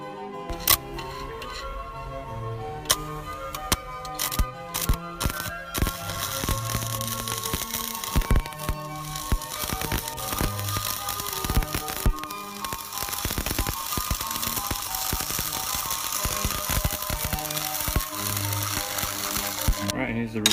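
Stick welding with a welding rod on tacked steel gives a steady crackling, spitting buzz with irregular pops throughout, moderately loud and continuous.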